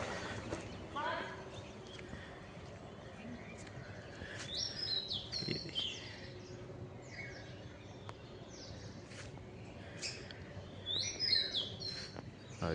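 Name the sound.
birds chirping at a school in the early morning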